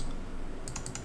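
A computer mouse double-clicks in Maya 3D software, four quick close clicks in two pairs over a faint steady background hum, no talking.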